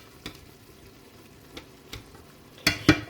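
Iraqi-style ribs frying in a pan in an apartment kitchen, a steady low sizzle broken by several sharp clacks and scrapes as the meat is turned, the loudest two near the end.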